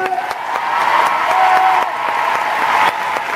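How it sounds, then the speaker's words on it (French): Big concert crowd at the Zénith de Paris applauding and cheering for a singer, a dense sustained roar of clapping and voices filling the arena, loud and continuous with a few whoops on top. "Applaudissements, s'il vous"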